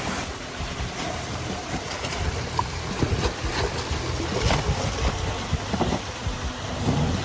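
An Electric Motion EPure electric trials bike rides up through a stream, with a continuous rush of churning water and scattered splashes close by. No engine roar is heard.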